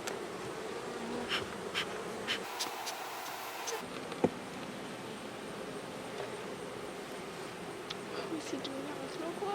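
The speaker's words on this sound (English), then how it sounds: "And these are the bees." Honeybees swarm at an open brood box of a backyard hive, a steady close buzzing drone with small clicks and bumps riding over it throughout.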